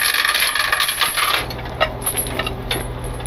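Metal tow truck safety chains clatter and jingle as they are thrown on, a bright rattling burst followed by a few lighter clinks close by.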